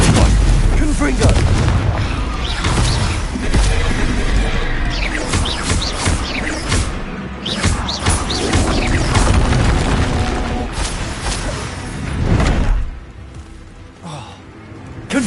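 Repeated booming blasts of the Confringo explosive spell in Hogwarts Legacy, loud and dense with crashing impacts, piled under game voices and combat noise throughout.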